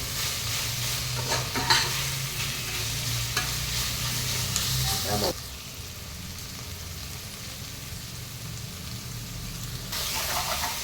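Onions fry in a pan for homemade chicken biryani, a close, continuous sizzle broken by scraping stirs, quieter for a stretch in the middle before the sizzling rises again.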